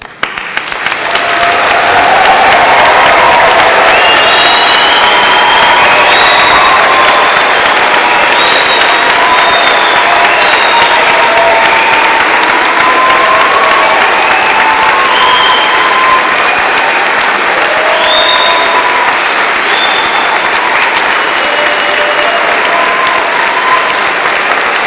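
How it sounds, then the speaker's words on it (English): Sustained applause for graduates from a large crowd at an Edinburgh degree ceremony fills the space, steady and loud throughout, with occasional faint cheers rising above the clapping. "join me in giving you the loudest and biggest round of applause that you will receive today"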